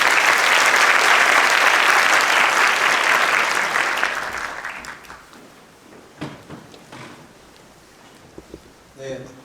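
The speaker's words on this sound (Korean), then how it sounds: "큰 박수로 맞이해 주시기 바랍니다" Loud audience applause in a university engineering college orientation hall greets the incoming dean, sustained for about four seconds before fading into scattered claps, shuffling and murmur.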